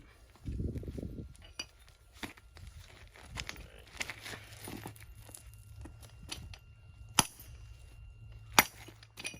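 Blue coral rock being struck and cracked with another rock outdoors, giving a series of sharp, close knocks and cracking snaps spread irregularly through the stretch, with a louder rough scrape near the start.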